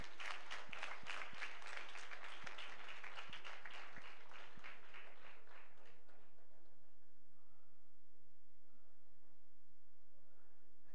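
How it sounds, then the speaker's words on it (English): Audience applause at a send-off ceremony for a graduating cohort: brisk clapping from a gathered crowd for about six seconds, then fading away to a quiet room with a low electrical hum. "can we give them a round of applause?"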